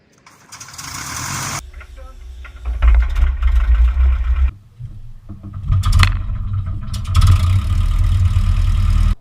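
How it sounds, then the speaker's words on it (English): An eighty-year-old tailwheel aircraft engine hand-propped by an external starter, first a scraping swing, then the engine catching and running in loud rough surges that dip and pick up again. "Starting the engine requires an external starter motor, in the form of someone brave enough to do this."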